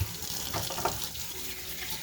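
Kitchen tap running under high water pressure into a sink, a steady broadband rush that holds evenly throughout with a few brief splashy surges near the start.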